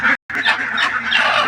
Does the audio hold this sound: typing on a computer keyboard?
no